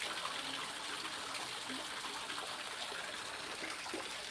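Rainwater gushes steadily into a drain outdoors, a continuous broad rushing wash of water with no pauses and no voices over it.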